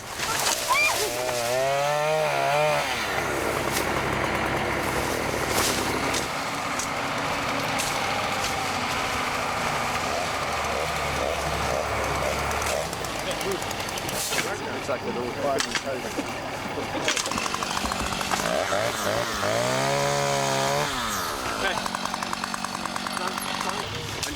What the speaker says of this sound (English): The clearing team, using chainsaws and axes, clears the passage as quickly as possible